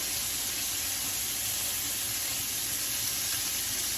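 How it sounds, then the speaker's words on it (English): Food sears in a hot pan with a steady, dense hissing sizzle that holds even and close throughout, with no talking. "they're nicely cooking and sort of sauteing, pan searing in the space that you have given"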